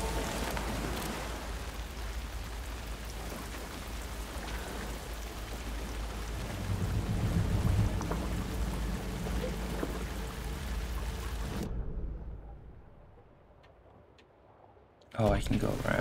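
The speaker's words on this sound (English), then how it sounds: "Damn, that was a lot of rain" Heavy rain in the video game Alan Wake 2, a dense hiss of pouring water at a steady level that cuts off abruptly, leaving quiet before sound returns, with a voice talking over it early on.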